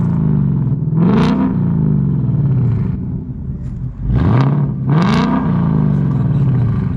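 A 2018-19 Mustang GT V8 with a resonator-deleted exhaust and H-pipe, revving loudly and close up over a deep idle rumble, with three rising and falling throttle blips.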